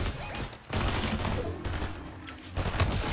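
Rapid gunfire from the video game Fortnite, a quick string of sharp shots in a busy, fairly quiet game mix, heard alone without talk.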